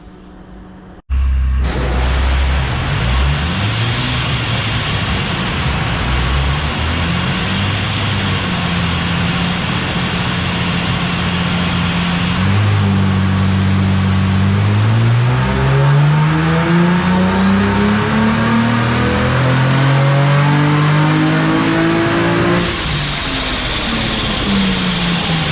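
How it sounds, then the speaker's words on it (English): A supercharged Holden VE V6 ute on a dyno, its engine climbing steadily through a long, loud full-throttle power run toward a 6800 RPM limit, the rising engine tones sweeping upward close and continuous for over twenty seconds. "we'll dial up the mixtures a little bit more after 6000 and do our final power run"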